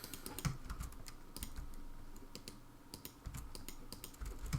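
Rapid typing on a computer keyboard, quick irregular clicks and clacks at close range over a soft background hum, with brief pauses between bursts of keystrokes.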